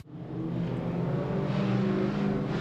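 Field of speedway modified sedans roaring off the line at a race start, a loud, sustained multi-engine drone that swells and holds as the cars accelerate together.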